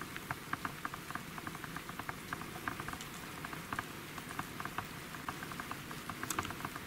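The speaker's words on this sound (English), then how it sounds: "It's not raining heavily, is it? Yeah, it's just sort of like drizzly." Light patter of drizzle at a medieval ruin in Norfolk, soft scattered drops ticking on a surface over a steady low background hiss, no voices.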